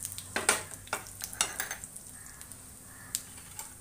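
Cumin seeds and asafoetida hit hot oil in a pan, a short burst of sizzling with sharp crackles and a few clinks of a stirring spoon, close and loud at first, then settling to a lighter hiss.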